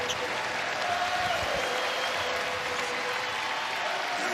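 Dense, steady applause from a basketball arena crowd of over 10,000 fans at a women's college championship game between UConn and Villanova, a loud sustained roar of clapping with no break.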